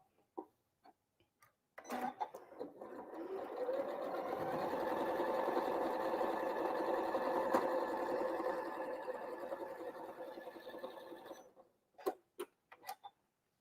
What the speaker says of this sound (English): we're going to sew it right across.